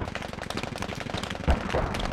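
Scattered rifle shots crack in quick succession across a noisy battlefield in the Squad military shooter, with one louder, closer blast near the end.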